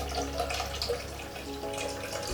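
Coconut milk poured into a bullet smoothie blender cup, a continuous close liquid stream with gurgling, brief and fairly quiet with no talk.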